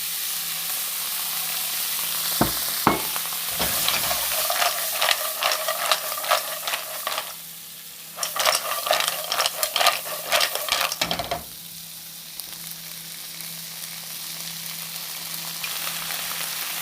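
Fresh mussels dropped into a hot pan with lemon, a loud burst of crackling sizzle and spitting that swells, briefly dips, flares again, then settles into a steady frying hiss, close up.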